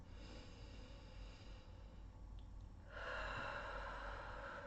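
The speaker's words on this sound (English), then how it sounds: "so just a few deep breaths." Slow, deep breaths drawn in and let out during a guided tapping meditation, soft and close against a quiet background hiss, growing a little fuller near the end, with no talking.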